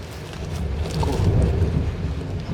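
Low rumbling thunder from a storm outside a garage, a broad deep roll that swells in the middle and fades, fairly distant, with no talking.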